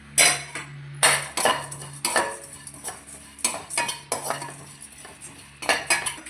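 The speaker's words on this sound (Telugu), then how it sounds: "చిన్న సైజు కప్పు గుమ్మడి గింజలు, పొద్దుతిరుగుడు గింజలు, తర్వాత ఇది పుచ్చకాయ గింజలు వేసుకొని బాగా వేగనివ్వాలి." Pumpkin, sunflower and watermelon seeds dry-roasting in a pan, heard as repeated loud scraping and clattering strokes of a metal spoon stirring them, in an irregular rhythm with short pauses.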